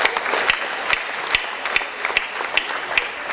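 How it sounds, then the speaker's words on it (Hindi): An audience at a late-night comic poetry gathering claps in a dense, close burst of applause punctuated by regular, evenly spaced louder claps. "ताली जोरदार बजाइए एक बार"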